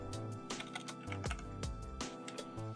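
Fast, close clicking of keys on a computer keyboard as a search term is typed into TinkerCAD. The bursts are quiet and uneven and come with no speech.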